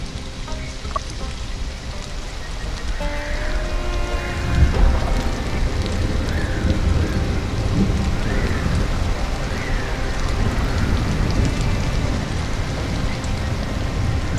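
Steady heavy rain and a rumbling thunderstorm in the survival game Stranded: Alien Dawn, with a deep roll of thunder rising midway over the continuous downpour and faint chirping calls drifting through.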